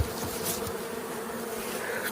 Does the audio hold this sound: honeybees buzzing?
yes